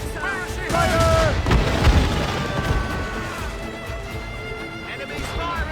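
Naval cannon fire in the video game Assassin's Creed Rogue: a heavy boom and crashing shots in a burst, with lingering rumble beneath a busy battle mix and steady background music.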